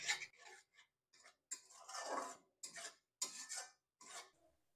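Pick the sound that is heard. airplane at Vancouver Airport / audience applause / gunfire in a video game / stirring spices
stirring spices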